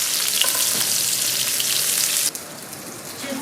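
Eggplant sizzling in rendered foie gras fat in a frying pan, a steady close crackle and hiss that drops to a quieter fry near the end.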